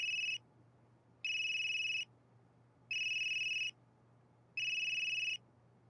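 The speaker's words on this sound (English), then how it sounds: "That geezer's phone is ringing." A phone rings in repeated electronic bursts, four evenly spaced trills of just under a second each with short silent gaps, clear and prominent over a faint hum.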